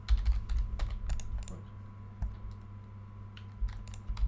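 Close, quick keystrokes on a computer keyboard come in short bursts with brief pauses, clear against a quiet room.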